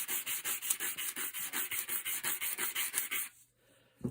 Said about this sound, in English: You can use a little sanding block